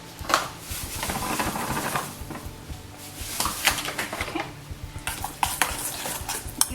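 Tzatziki is stirred in a bowl, a continuous scraping and clinking of a utensil against the bowl, close and fairly loud, with repeated rhythmic strokes and no talk.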